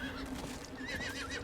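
A horse whinnies in Diablo IV, a wavering neigh over a loud continuous game background with hoof clatter.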